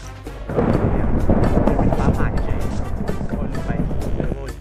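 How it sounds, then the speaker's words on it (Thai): A lightning strike in the Minecraft video game, a loud, sustained thunderous rumble swelling after a brief quieter start and rolling on for several seconds with crackling bursts. "ปรับให้ฟ้าผ่าได้ด้วย แต่นี่จะเป็นฟ้าผ่า"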